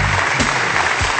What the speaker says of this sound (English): Where's our hand claps?